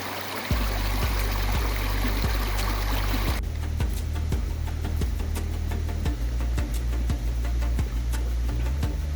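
Water at Tadtaran Falls rushes in a steady, broadband roar, close and continuous, with sharp rhythmic clicks or knocks repeating throughout and no voices.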